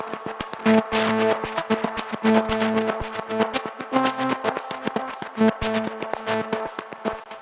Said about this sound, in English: synth part that I did on my Prophet Rev 2